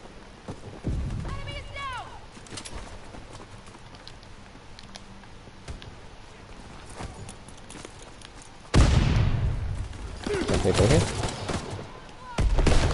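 Shotgun blasts and game combat noise in the World War II shooter Call of Duty WW2, a few sharp loud bursts with a heavy barrage near the end, while a player talks over the action.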